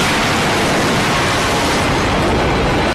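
A bomb blast in an action movie, heard as a loud, continuous roaring rumble of broadband noise that fills about three seconds with no voices on top.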